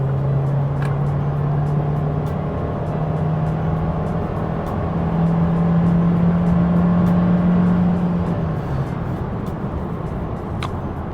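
A Hyundai Staria 1.6T hybrid van accelerates hard, its engine drone rising steadily in pitch inside the cabin, a strong sustained tone that climbs, holds, then drops off near the end.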